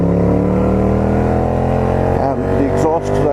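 A Honda CX500 motorcycle engine drones loudly up close with a buzzy, rasping note from its flattened exhaust, wavering in pitch as the throttle shifts, with a voice faintly underneath.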